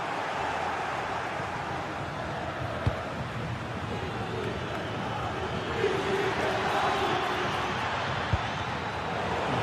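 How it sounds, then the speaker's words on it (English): A football video game crowd roars in a dense, continuous wash of cheering that swells slightly toward the end, with a commentator talking over it. "just listen to this crowd"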